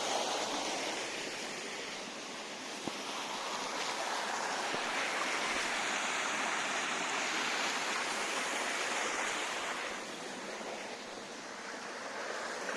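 Fast-flowing water at a hidden waterfall stream in Salem, a steady, broad rushing wash that stays close and loud for the whole stretch with no voices.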